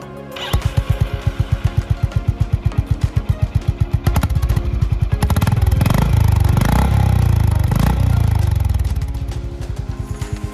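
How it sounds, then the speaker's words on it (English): A Honda CB350 RS BS6 motorcycle engine thumps rapidly at first with a loud, regular pulse, then revs hard and climbs through the gears in a sustained roar, close and loud with no talking. "it is super fun to go through the gears and redline the motorcycle"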